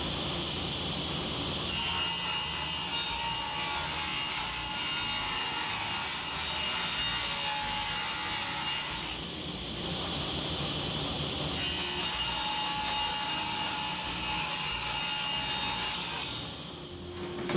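Table saw cutting scrap 3/8-inch plywood in a workshop: two long, steady cuts of several seconds each, a loud hissing, buzzing blade-through-wood sound separated by a short pause where the spinning blade idles.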